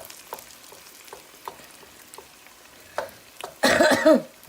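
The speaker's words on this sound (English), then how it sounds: "we're going to saute our tomato paste" Tomato paste hits a pan for a Greek baked fish in onion tomato sauce, with light taps and scrapes of a wooden spoon before a loud, close sizzle bursts up near the end.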